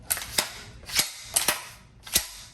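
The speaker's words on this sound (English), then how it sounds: "everybody know that sound right there, that pump action" Four sharp metallic clacks in quick pairs, loud and close, as a Rock Island Armory VRPA40 pump-action 12-gauge shotgun slide is racked back and forth.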